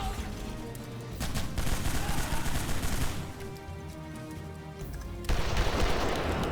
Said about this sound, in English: there's nothing like playing a good pirate game and then just blasting away everyone with a gun